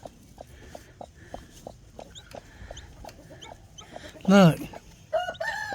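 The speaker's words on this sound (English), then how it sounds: "Oh, I hear a chirp chirp." A mother hen with her baby chicks, the chicks giving a steady run of high, close peeping while the hen breaks in with a loud clucking call and a shorter squawk near the end, and a voice briefly speaks.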